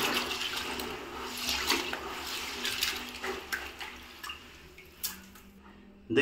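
Dirty, blackened water from rinsing wheat grain meant as pigeon feed runs and splashes steadily, with trickles and drips and a few sharper splashes near the end.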